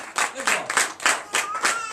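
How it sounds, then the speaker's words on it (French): Members of a church congregation at a Sunday worship service in Comè, Benin, clap in loud, rhythmic bursts, the sharp hand claps close and repeated in regular pulses. "je vous demande d'applaudir très fort"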